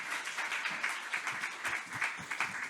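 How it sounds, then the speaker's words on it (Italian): Conference audience at a regional environmental forum applauding, a dense steady patter of many hands clapping throughout, moderately loud and filling the room, with no voices over it. "io un applauso lo farei a tutti voi che siete qui numerosi oggi"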